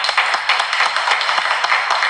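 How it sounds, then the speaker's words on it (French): A crowd clapping loudly and steadily, many hands at close range with an uneven quick rhythm, with no talk over it. "Ça s'applaudit."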